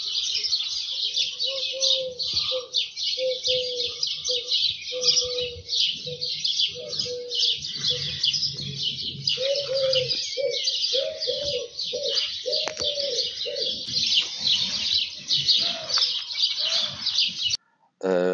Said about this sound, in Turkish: Böyle kumru sesleri, kuş sesleri.